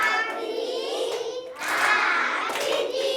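Class 2 children in a Pokhara primary classroom clap their hands in rhythm to split a word into syllables, a few sharp claps mixed with children's voices and chatter.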